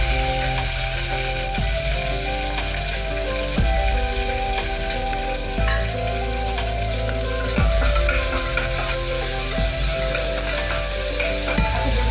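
Onion, ginger and garlic paste fries in a pan after mustard and cumin seeds have crackled, giving a continuous close sizzle with a repeating mechanical clatter running underneath.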